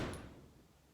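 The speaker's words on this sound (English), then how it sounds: "My door just shut." A single door thuds shut nearby, a short dull impact that quickly decays into quiet room tone.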